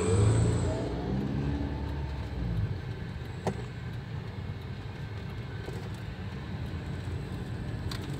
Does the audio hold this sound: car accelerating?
yes